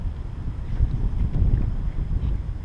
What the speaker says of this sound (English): And this wind is gonna mess me up.